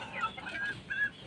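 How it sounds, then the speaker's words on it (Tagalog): Moulting backyard chickens on a farm giving a few soft, quiet clucks and short murmuring calls, heard alone with no talking. "papakita ko sa inyo yung mga manok namin na naglulugon"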